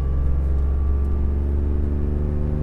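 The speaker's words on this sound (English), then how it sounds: "I apologize for the extra engine noise" Honda NSX sports car engine droning steadily from inside the cabin while driving after a major service, a loud, constant low hum with a tonal whine and no talk.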